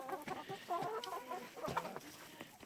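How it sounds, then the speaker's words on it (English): Chickens cluck near a door, a busy cluster of soft, overlapping clucks and short calls at close range, fairly quiet. "Trying to convince these little chickens"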